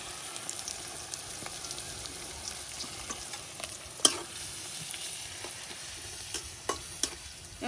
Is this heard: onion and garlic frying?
yes